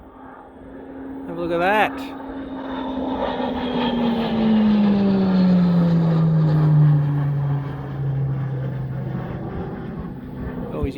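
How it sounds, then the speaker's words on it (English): A Royal Australian Air Force PC-9 propeller aircraft flies aerobatics overhead, its engine drone rising and then falling steadily in pitch as it passes and climbs. The drone stays loud throughout, with a brief voice speaking near the start. "we've got a RFF PC9 here doing some aerobatics"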